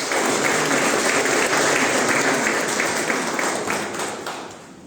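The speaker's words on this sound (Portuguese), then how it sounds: "Uma salva de palmas para o Senhor." A congregation at a chaplaincy gathering claps for the Lord after a prayer, a loud, dense burst of applause that holds steady and then fades out over the last second.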